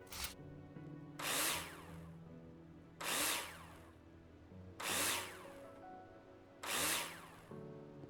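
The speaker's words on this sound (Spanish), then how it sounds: "Y ahora coloca los perfiles de tornillos con el taladro." A power drill driving screws into profiles in the Builder Simulator video game: four loud, separate whirring bursts at a steady pace, with a quieter background hum between them.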